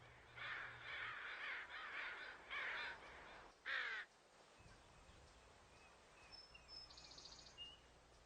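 A group of crows caws in a quick series of harsh, repeated calls, fairly faint and outdoors, followed by quieter background sounds and a distant bird trill.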